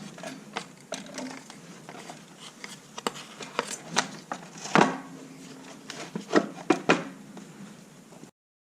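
A snowmobile pull starter assembly winds its rope back in with a series of light clicks and ratcheting ticks, irregular and close, fairly quiet throughout.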